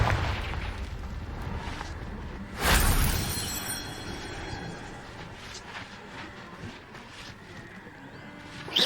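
A Confringo blasting curse goes off in Hogwarts Legacy as one sudden, loud burst with a crackling, shattering tail that fades over a few seconds into a low background rumble.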